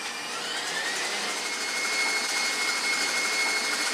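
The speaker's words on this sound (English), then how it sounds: "I'm going to add the tablespoon of sugar, turn it to high speed, and mix it until soft peaks form." An electric mixer whips egg whites with sugar at high speed, producing a loud, continuous whirring drone with a steady high whine that holds unbroken for a few seconds.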